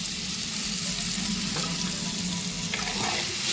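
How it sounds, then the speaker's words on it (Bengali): Water pours into a pan of frying potatoes, and a steady rushing splash blends with the sizzle at close range, with no voices. "ভালো করে পরিমাণ মতন জল দিয়ে দিচ্ছি যাতে আলুটা সিদ্ধ হয়ে যায়"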